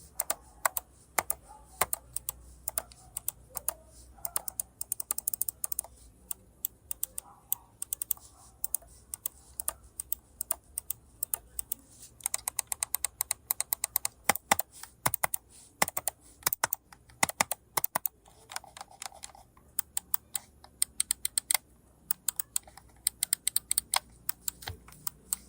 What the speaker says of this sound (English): We're gonna have a small sound test with the mouse and as well as the side buttons